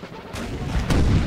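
Cannon artillery in a Napoleon: Total War battle, with two booming shots about half a second apart over rumbling battle noise, loud and close with no talk.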